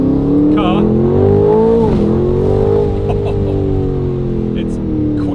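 A 2026 Aston Martin Vantage S engine roars loud and close as it revs, the pitch rising and then dipping and settling, with people talking over it.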